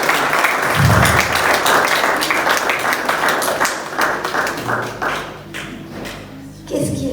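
An audience claps in a dense burst of applause, fading gradually over several seconds, with voices heard in the room.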